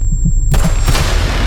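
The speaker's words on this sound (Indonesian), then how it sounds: "Terdengar bunyi tembakan." A sudden sharp burst cuts in after a low hum, followed by a lingering noisy rumble, loud and close.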